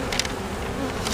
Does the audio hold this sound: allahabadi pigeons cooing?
no